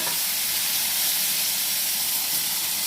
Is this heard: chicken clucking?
no